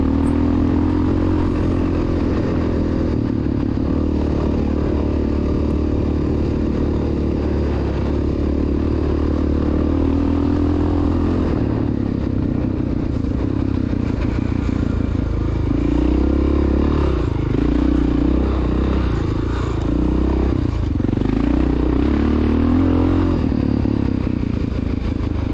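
A 1993 Honda XR600R dirt bike rides a dusty, powdery cross-country motorcycle course, its engine droning loud and steady throughout with shifting revs, plus rattles and clatter from the rough terrain.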